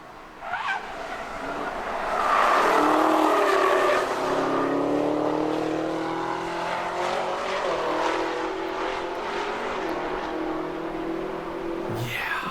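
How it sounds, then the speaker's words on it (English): A camouflaged Gen 6 Chevrolet Camaro screams around the Nürburgring, its engine rising and falling through gear changes as it passes, loud and sustained, with occasional tire noise. "a video and pictures pop up of this camo Gen 6 car. Super mega Camaro. Screaming around the ring"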